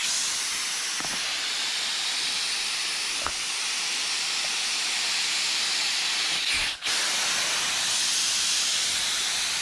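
A spray gun mists a light coat of paint onto the bodywork of a 1959 Dodge Coronet, giving a loud, continuous airy hiss that runs almost unbroken, with a single brief dip near the end.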